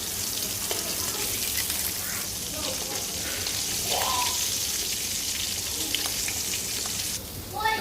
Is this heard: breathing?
no